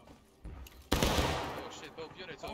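Musket volley fire in the American Civil War video game War of Rights, a quiet lull broken by a sudden loud crash of massed shots that rings out and slowly fades, with faint voices afterward.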